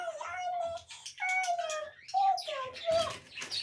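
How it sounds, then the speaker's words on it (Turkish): Birds chirp and coo in quick overlapping calls, a lively cluster of bird voices fairly close by with no talking. "Kızım bu kuşlar niye bu kadar çok öttü?"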